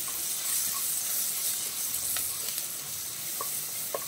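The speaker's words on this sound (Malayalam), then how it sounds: "നമുക്ക് അതിലേക്ക് 1 സവാള അരിഞ്ഞത് ചേർത്ത് കൊടുക്കാം" Chopped onion fries in a pan for pepper chicken, a steady close sizzle and hiss with a few faint scrapes and clinks of stirring.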